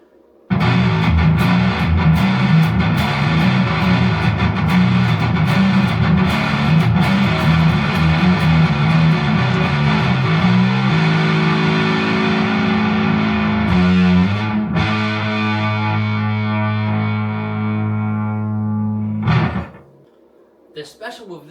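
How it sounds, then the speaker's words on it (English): A 7-string electric guitar played through distortion on its neck pickup rings out loud and sustained, with heavy chugging chords that settle into long held notes before cutting off abruptly near the end. "this is what distortion sounds like on a neck pickup on 7-string"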